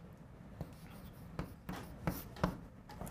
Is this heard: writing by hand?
yes